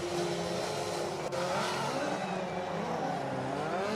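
A Citroen C3 Rally2 rally car on a Brands Hatch winter stage roars past close by, its engine note sweeping through gear changes with a brief tyre scrub, loud and continuous.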